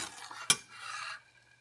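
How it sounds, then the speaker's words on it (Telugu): A spoon stirs sugar syrup in a pan for a cashew pistachio sweet, one sharp metallic scrape followed by soft swishing and faint bubbling, quiet and close. "ఇలా కలుపుకుంటూ ఉండండి"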